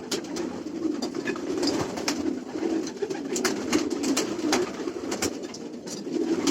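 Racing pigeons coo steadily inside a loft, a continuous low murmuring chorus from several birds with occasional sharper calls and wing flutters, moderately near and without talk.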